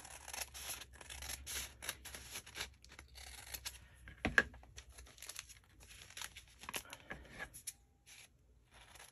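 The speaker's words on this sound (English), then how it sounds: "I'm just gonna try to use my scissors" Close, quiet snipping and crinkling of paper being trimmed, short cuts in irregular bursts with a louder crackle midway.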